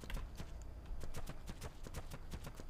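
Horse hooves clip-clop in a steady, even rhythm in the video game Dark and Light, a string of crisp, close hoofbeats with no talk over them.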